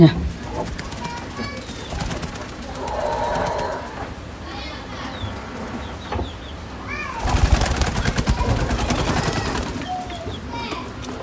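An Australian white dove coos softly among other bird and background sounds. A louder, denser burst of noise rises in the later part.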